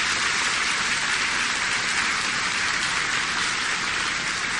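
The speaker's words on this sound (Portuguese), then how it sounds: "Uma salva de palmas para os catequistas" A church congregation at a Catholic Mass applauds the catechists, producing loud, dense, continuous clapping that stays steady from start to finish without pause.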